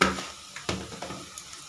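Spices frying and sizzling in a pan for dhaba-style bathua dal, with a steady hiss broken by several sharp stirring scrapes and clinks, close and alone without talk.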